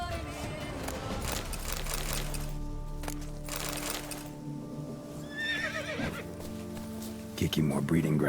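Roach, a horse in The Witcher 3: Blood and Wine, whinnies and neighs with clip-clop hoofbeats over game music and ambience, while someone speaks intermittently.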